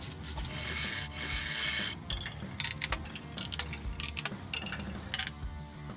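A ratchet works on bolts on the frame rails of a Chevy S-10 truck during a 5-link suspension install. A sustained rasping buzz gives way to quick, irregular clicking strokes, close and fairly loud.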